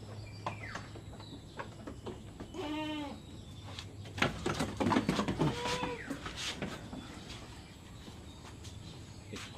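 Goats bleating in a pen during iron injections, with a few distinct wavering bleats at moderate distance among clatter and shuffling, no talk.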